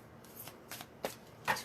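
Tarot cards being shuffled by hand, a few soft riffling bursts spaced apart, quiet and close with no talking.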